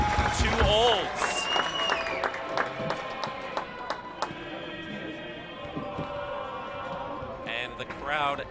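Spectators at a women's college volleyball match between SAIT and Olds react to a point with a loud, sustained crowd murmur, scattered shouts and whistles, while a commentator talks over the noise.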